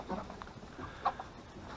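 Soft, scattered clucking from a few chickens nearby, with one sharper squawk partway through over a low background rustle.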